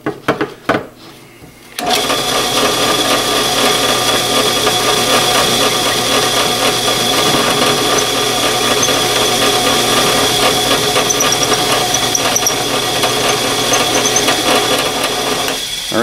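A router fitted with a drill bit cuts a wooden template: after a brief quiet start, a loud, steady motor whine and cutting roar run unbroken to the end, with no talk over it.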